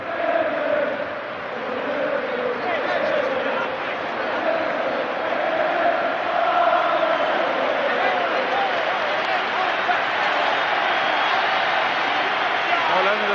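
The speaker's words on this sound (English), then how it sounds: "just look at the Liverpool fans giving a cheer to the Everton players going round" Liverpool fans at the 1986 FA Cup Final against Everton cheer and applaud the Everton players going round, a steady, distant crowd roar filling the stadium while a commentator talks over it.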